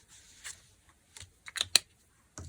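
Scissors snip a paper specimen frame to size in a few sharp, close clicks and cuts separated by quiet pauses.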